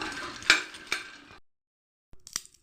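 Makhana fox nuts frying in a pan, with a few sharp scrape-and-rattle stirring strokes over a soft sizzle, a short silent gap, then another quick burst of stirring.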